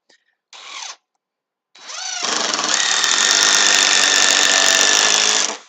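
A power drill drives screws into the ends of a cross beam during distillery building work. One short whir comes first, then a long, loud, steady drilling run holds for several seconds close by.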